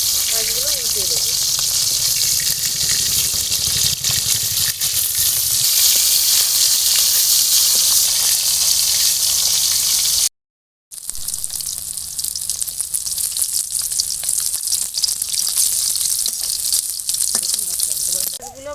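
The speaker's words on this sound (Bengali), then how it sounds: "মাছগুলো ওই পাশ ভাজা হয়ে গেছে। আমি এবারে মাছগুলো উল্টে দেবো।" Rohu fish pieces frying in oil in a pan, a loud continuous sizzle with a brief break as the pieces are flipped, then steady crackling resumes.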